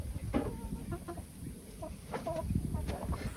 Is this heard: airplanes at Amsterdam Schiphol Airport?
no